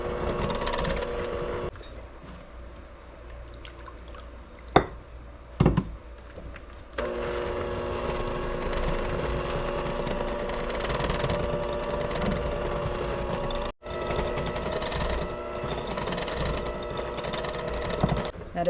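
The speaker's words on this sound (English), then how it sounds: "Now I want to blend this milk in until this mixture is really nice" An electric hand mixer runs steadily, blending milk into a peanut butter pie mixture in a bowl, its motor whirring continuously with a brief dip midway and a few clicks and knocks against the bowl.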